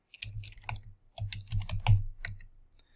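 A name is typed on a computer keyboard: a close burst of quick, uneven key clicks broken by brief pauses, with no talk.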